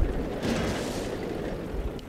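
A tank cannon fires in World of Tanks, giving a single heavy boom followed by a rumbling blast that fades over about two seconds, with no talk.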